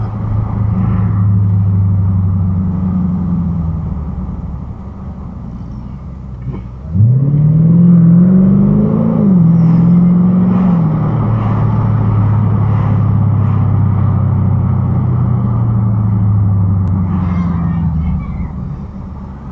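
Steady road roar and buffeting wind inside a moving car with the front windows down and the sunroof open, a low engine rumble swelling around the middle as the car speeds up, continuous and fairly loud throughout.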